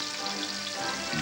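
Danish bacon frying in a pan, a steady close crackling sizzle with bright hiss that carries evenly throughout, no voices over it.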